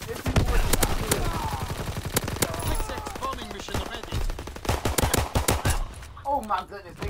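MP40 submachine gun firing in a World War II video game, rapid sustained bursts of automatic gunfire, loud and close, with a voice talking over the shots.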